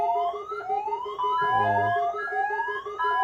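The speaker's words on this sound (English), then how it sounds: "Got that crazy weird Chicago siren head siren." A wailing electronic siren modeled on the Chicago Siren Head sound, rising and falling in repeated sweeping tones with layered pitches, loud and close, with a brief deep burst midway and a single short spoken word.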